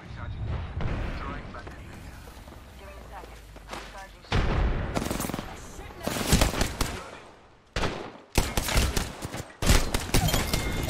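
Video game gunfire in a shooter comes in loud, rapid volleys of cracking shots in several separate bursts, with brief quiet gaps between them and voices talking in between.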